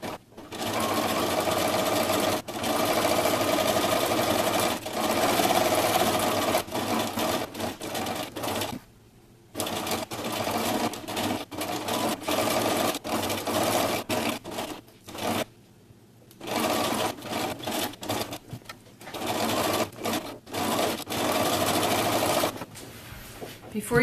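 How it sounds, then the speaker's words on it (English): Sewing machine running steadily as it stitches around the edge of a fabric baby bib, a close, continuous mechanical whir broken by a few brief pauses. "Now you're going to sew all the way around the bib, but you're going to leave a 4-inch hole to turn the bib right side out."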